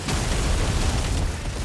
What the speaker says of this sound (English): Just look at all those explosions!